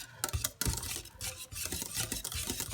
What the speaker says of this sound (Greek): Βάζω το τυράκι μου, βάζω και πιπέρι, ανακατεύω καλά πάλι